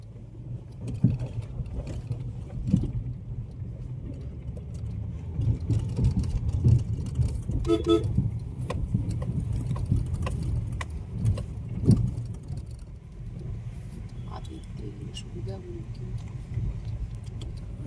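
A car drives slowly through a water crossing where runoff floods a landslide-damaged mountain highway in Himachal Pradesh, its engine a low steady rumble under rushing water, with occasional rattles and knocks and a person talking over it.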